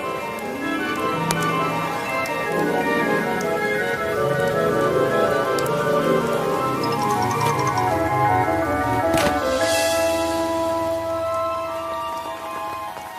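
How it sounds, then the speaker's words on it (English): Rain falling in an animated story, a steady patter on surfaces under gentle melodic music, with a brief louder splash near the middle. "The rain was falling more slowly, too."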